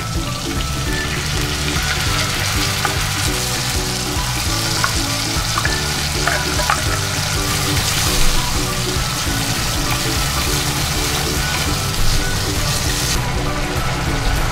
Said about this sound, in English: ihahalo na po natin yung ating tuna in can kasama po yung kanyang sabaw